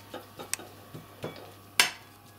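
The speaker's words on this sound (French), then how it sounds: "On répartit bien avec le dos d'une cuillère, une grande cuillère, pour faire une couche uniforme." A large spoon scraping and tapping against a buttered baking dish while spreading new turnips for a clafoutis, several light clinks and scrapes with one sharper knock, close and quiet, no speech.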